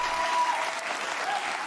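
Audience applause in a broadcast studio setting, a dense wash of many hands clapping steadily at moderate volume for the whole span without a pause.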